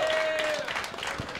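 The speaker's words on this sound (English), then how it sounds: "Clap your fucking hands for these two." Brief burst of clapping from a roast battle crowd in Denver, moderately loud and mixed with a voice speaking over it.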